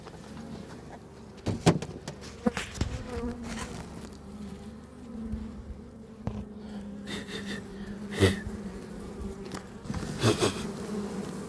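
Honey bees buzz around an open hive during a pre-winter inspection, a close, droning hum with individual bees flying past the microphone and occasional soft knocks of handling.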